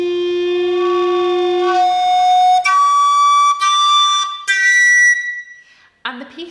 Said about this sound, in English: The recorder has all these different overtones.